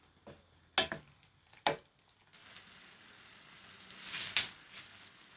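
Cauliflower pasta sauce with lemon zest simmering in a pan, a soft steady sizzle and bubbling broken by a few sharp utensil clinks against the cookware.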